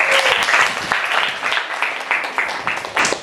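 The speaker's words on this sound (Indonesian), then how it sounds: "tepuk tangan dulu" A class claps together in a round of applause, loud, close, rhythmic rapid claps in a series of pulses that gradually loosen.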